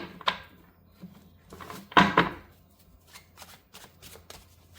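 Tarot cards are shuffled and drawn close up, with soft riffling, a sharper flurry of card snaps partway through and lighter slides and taps after it. There is little or no talking.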